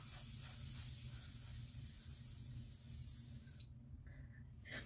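Pink hair color spray from L'Oréal hissing in a steady, continuous burst close by, with a low rumble beneath and the spray thinning out near the end.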